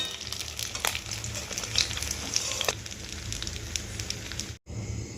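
A fish head fries in hot oil, giving a continuous moderate crackling sizzle with brief pops and a short break near the end.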